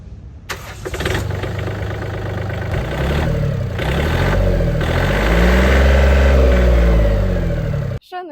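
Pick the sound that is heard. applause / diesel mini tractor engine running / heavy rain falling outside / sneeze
diesel mini tractor engine running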